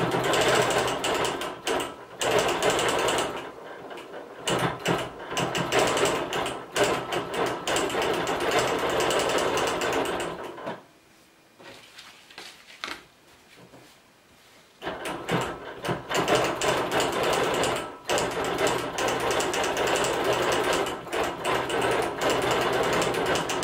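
A sewing machine runs a web stitch over quilted letters on a Christmas stocking, a fast steady mechanical clatter in long runs broken by brief stops and a few seconds of near silence.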